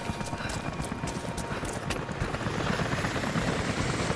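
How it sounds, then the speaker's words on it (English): Helicopters approach in Rise of the Tomb Raider, a dense rotor chop and rumble with rapid rhythmic thumping, steady and fairly loud throughout. "helicopters are headed your way."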